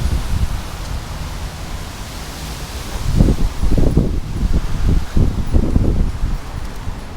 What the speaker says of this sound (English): look at the wind picking up now.